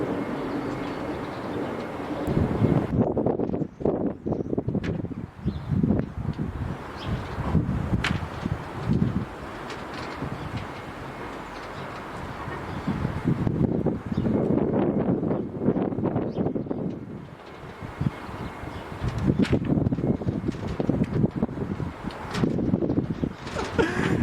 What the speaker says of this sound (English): It's a bit windy so I'm shouting at you